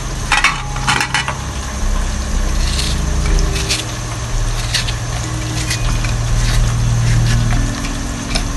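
A knife chops garlic, ginger and tomatoes for chicken karahi, irregular close taps and scraping strokes on a cutting board over a steady low background hum.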